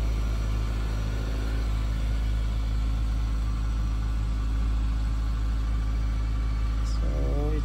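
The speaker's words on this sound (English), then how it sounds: "Yep, engine is running." Ford Escape Hybrid engine idling, a steady low rumble that runs evenly throughout at a moderate distance, with a brief faint whine near the end.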